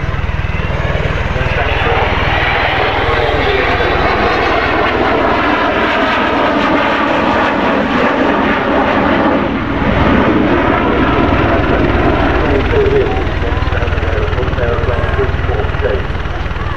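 The Avro Vulcan XH558 bomber roars past at the Farnborough airshow, its loud, sustained jet engine noise swelling and filling the sky while a commentator talks over it.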